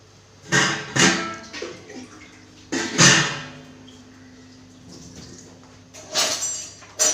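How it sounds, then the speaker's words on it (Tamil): Water poured into a cooking pot in a home kitchen while making a tamarind-based lentil-ball curry, coming as a few separate splashing bursts with quiet pauses between them. "எவ்வளோ த தண்ணி தேவையோ அதை ஊற்றிக்கலாம்"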